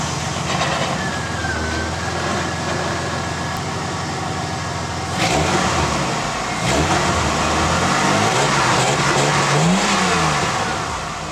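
A Ford Falcon AU with a new catback exhaust and a stock engine apart from the intake box is cranked and started, then idles with a deep, steady rumble and gives a few rising revs close by.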